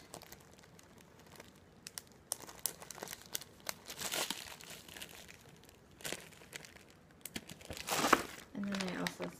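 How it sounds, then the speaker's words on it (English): Breakfast sandwiches being wrapped in plastic wrap during meal prep, with close, bursty crinkling and rustling that swells and fades in uneven handfuls over a quiet kitchen background. "I'll wrap them up in plastic wrap."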